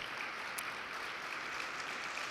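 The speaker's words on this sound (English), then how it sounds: "You can give yourselves a round of applause" Audience applause at a business luncheon, a dense, steady wash of clapping that holds at an even level throughout with no voices over it.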